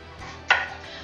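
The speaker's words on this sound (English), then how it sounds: "I'm just going to cut these in quarters" A knife slices through a Yukon Gold potato on a cutting board, one sharp close chop against otherwise quiet kitchen background.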